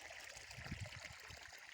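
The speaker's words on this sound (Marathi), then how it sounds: "विहिरीतली मोटर असल्यामुळं पाणी खूपच प्रेशरने यायलं" Irrigation water from a well pump gushes under pressure into a sesame field, a close, steady burbling flow with low gurgles, no voices present.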